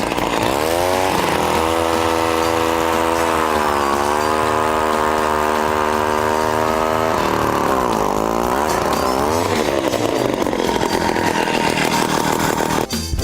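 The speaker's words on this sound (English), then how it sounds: "But today we're going to use a power auger." A gas-powered ice auger drills through frozen lake ice, its small engine buzzing loud and close, holding a steady pitch before revving and bogging as the bit cuts through.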